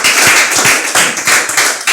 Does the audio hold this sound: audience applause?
yes